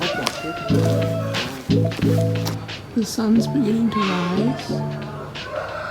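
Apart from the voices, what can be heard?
chickens crowing at sunrise in Vietnam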